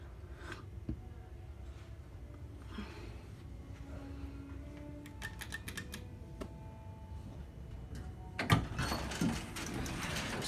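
A ThyssenKrupp Impulse elevator runs in a furniture store in Pembroke Pines, Florida: quiet mechanical whirring and faint clicks under room hum, with a few brief tones and a louder clunk near the end.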